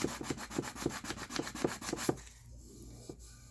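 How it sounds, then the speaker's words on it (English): Sandpaper rubs along the cured epoxy edge of a glitter tumbler in quick, regular back-and-forth strokes, close and crisp, then slows to a softer scrape with a single stroke near the end. "I'm just trying to run the sandpaper into this edge here"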